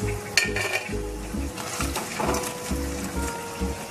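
Soybean pakoras stirred in hot oil give off a steady sizzle broken by rhythmic scraping and clinks of a spatula against the pan, close and fairly loud with no talking.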